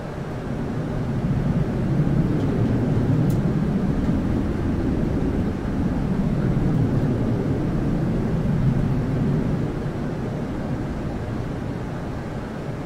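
Steady, loud drone of an airplane flying overhead in the video game Arma 3, a continuous engine roar that swells and fades slightly without pause.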